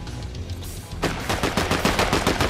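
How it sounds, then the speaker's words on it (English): Rapid bursts of gunfire in the Fortnite video game, a quieter stretch giving way after a second to dense, sustained machine-gun-like rattling that continues loudly to the end. "I'm hearing a lot of gunfire here."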